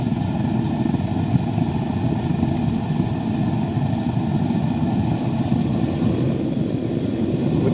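Propane furnace burner roaring with its regulator and air valve opened up, a dense, steady broadband roar that stays loud and unchanging throughout, no voices over it.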